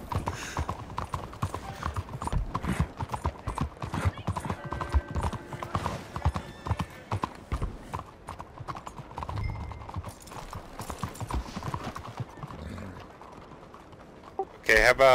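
Horse hooves clip-clop steadily and close in the Red Dead Online game, a dense continuous trotting patter over rumbling ground noise, with a brief whinny and talk mixed in.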